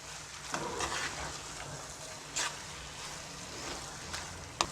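Carrot halwa with dry fruits is stirred in a pan, making soft, faint scraping and sizzling with a few brief louder strokes against the metal, and no speech.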